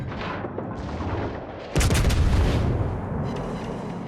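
Heavy naval guns firing in World of Warships, with Kronstadt battlecruiser battle noise: a deep, booming salvo bursts in loudly after a quieter rumbling lead-in, then rolls on as a low sustained roar.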